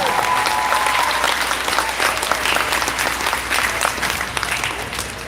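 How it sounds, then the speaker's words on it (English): Loud, close applause from an audience at a school band concert, dense continuous clapping lasting several seconds with a few individual claps standing out. "Give them a round of applause."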